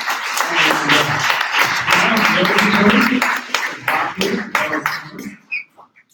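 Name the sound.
audience applause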